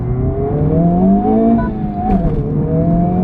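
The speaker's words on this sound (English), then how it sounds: "The turbocharged K20 inline-4 has less lag, noticeably more mid-range grunt, and a little more top-end power too." A Honda Civic Type R's turbocharged K20 inline-four engine pulls steadily under acceleration, its tone rising and falling through a smooth mid-range drone with a faint whir on top, heard close from inside.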